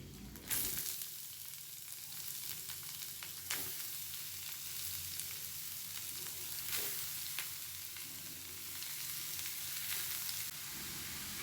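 Ginger and spices fry together in a pan, a steady close sizzle with occasional sharper crackles and stirring, running on its own without voices.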